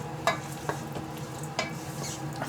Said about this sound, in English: Just give them a little bit of a stir up.